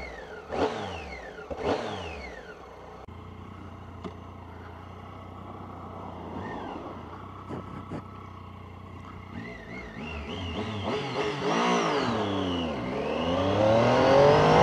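A 2017 Triumph Tiger 800 XRT motorcycle engine cranks and fires up, settling into a nearby idle with a few revs and rising engine tones building louder toward the end.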